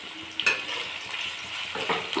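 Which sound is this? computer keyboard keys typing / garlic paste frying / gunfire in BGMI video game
garlic paste frying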